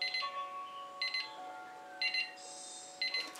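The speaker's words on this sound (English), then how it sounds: "That can be some of the most inconvenient beeping on the planet right now." An electronic alarm beeps in short bursts about once per second, four clear pulses in a quiet room, fairly faint and with no one talking.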